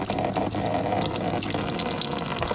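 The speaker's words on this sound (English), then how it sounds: "We just loosen it until the fluid starts to drain." Coolant draining from a loosened drain valve on a Honda radiator into a bucket, a steady close trickling splash running continuously at moderate level.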